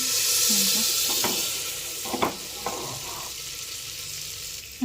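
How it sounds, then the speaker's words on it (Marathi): Butter sizzles and fries steadily in a pan for pav bhaji, a continuous hiss with a few scraping stirs and light clinks, close and alone. "आता याच्यामध्ये मी बटर टाकले"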